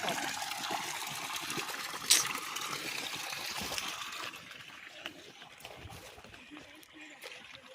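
A stream flows through a hill forest with a steady, soft rushing of water that grows fainter later on, while a person speaks over it.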